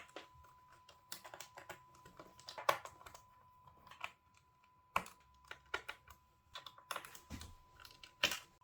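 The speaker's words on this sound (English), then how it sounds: "First of all, we need to take out the screws. These are Torx screws." Torx screws are being removed from the bottom plate of a Dell XPS 9700 laptop: scattered light clicks and taps of metal on metal, close and quiet, come in irregular clusters against near silence.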